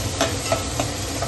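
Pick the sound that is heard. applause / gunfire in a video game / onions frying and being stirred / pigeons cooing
onions frying and being stirred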